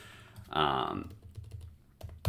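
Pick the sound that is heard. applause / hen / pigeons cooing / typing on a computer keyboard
typing on a computer keyboard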